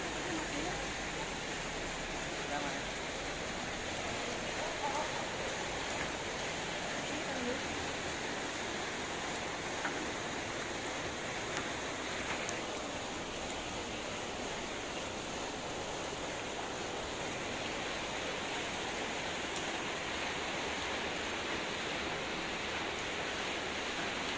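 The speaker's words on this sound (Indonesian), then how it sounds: "Hujan?" Steady rain falls in a continuous, even hiss with no breaks, moderately loud and close, with no distinct voices rising above it.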